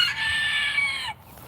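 A rooster crows nearby in a backyard chicken coop, one drawn-out crow lasting about a second before it breaks off, with only faint background noise afterward.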